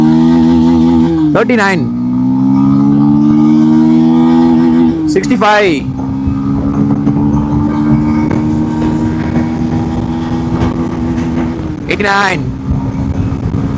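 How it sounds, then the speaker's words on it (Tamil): A 150cc city sports motorcycle engine revs toward maximum power, climbing in pitch through several rising sweeps with brief dips at gear changes, loud and close, while someone talks over it. "நெக்ஸ்ட் இன்ஜின் வந்து மேக்ஸிமம் பவர் நோக்கி பயணம் பண்ணுறனால அந்த சவுண்ட் நீங்கள் கேட்கலாம்"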